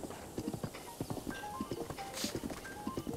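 Horse hooves galloping in the video game Zelda Breath of the Wild, a fast steady clip-clop rhythm with brief whinnies and game tones, heard under occasional talk.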